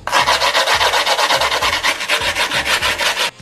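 An old rusty screwdriver scrapes hard along the side edge of a skateboard deck in loud, steady back-and-forth rasping strokes, roughly three per second, continuous for about three seconds and then stopping abruptly, with no talking.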